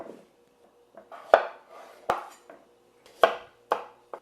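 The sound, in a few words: knife cutting baby potatoes in half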